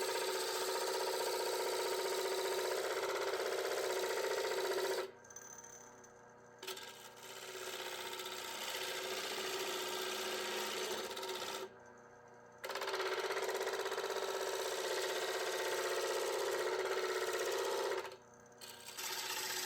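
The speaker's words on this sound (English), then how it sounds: "I switched over to the 1/2 inch spindle gouge again because I just find I get a better cut with that right now." A pallet wood platter spinning on a lathe while a 1/2 inch spindle gouge cuts it, a steady loud hiss and whir broken by three short pauses as the tool lifts from the wood.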